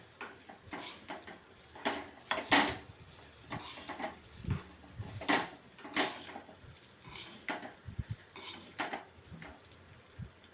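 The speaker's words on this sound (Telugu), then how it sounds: "ఉప్పు, కారం, మసాలా వేసేసి మళ్ళీ మరలిస్తూ ఉండాలి స్పూన్ తోటి" A spoon clinks and scrapes against a pan as fried rice seasoned with salt, chilli and masala is stirred, irregular metallic knocks and scrapes repeating close by, with no speech.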